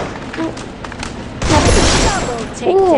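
Gunfire in the battle-royale video game Free Fire: a loud burst of rapid shots starts midway and keeps going, mixed with game sounds and someone talking.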